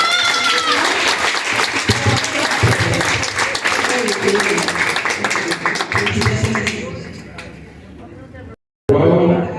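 Applause for debate students breaks out loud and close, a dense burst of clapping from a crowd that fades toward the end, with voices and babble mixed in.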